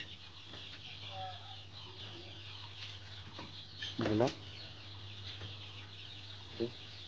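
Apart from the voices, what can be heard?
Sonali chickens clucking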